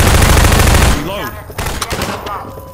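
An SMG fires in rapid bursts in Half-Life 2, a dense, loud rattle of shots that stops abruptly, followed by softer clatter and scattered game sounds.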